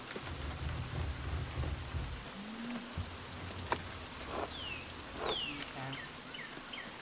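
Steady rain hisses in the video game Pentiment, with a few high bird chirps sweeping over it and a single short spoken word early on.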